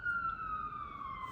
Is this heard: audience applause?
no